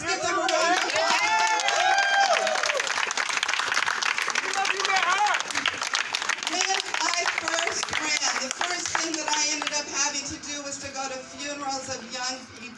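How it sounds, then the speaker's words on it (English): Loud, sustained applause and cheering from a crowd at a campaign headquarters opening in Connecticut, dense clapping with voices mixed in throughout, tapering slightly near the end. "So let's give them a round of applause."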